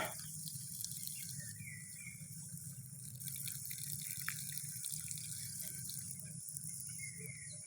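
Faint, steady rushing of river water flowing, a continuous even wash of sound with no voices.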